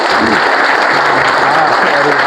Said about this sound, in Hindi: आप सभी के थोड़ा सा तालियां बजाया करो तेजी से